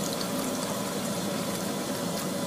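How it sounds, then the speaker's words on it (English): Water pours steadily from the lever tap of an atmospheric water generator, a constant soft hiss of flowing drinking water with a faint pump hum beneath it. "provide ultra-pure drinking water simply at the touch of a lever"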